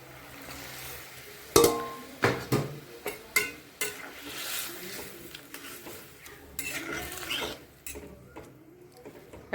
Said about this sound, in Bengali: এখন এই যে মাছগুলো দিয়ে দেব।